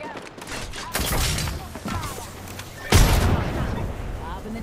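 In an Apex Legends match, a frag grenade goes off as a loud, sharp blast near the end, with other bangs before it and players talking over the action.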